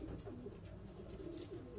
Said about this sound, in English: this is a gift bird